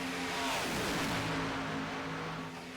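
Race cars roar around Daytona in the iRacing game, a dense, steady engine drone with several cars at once, fairly quiet and sustained.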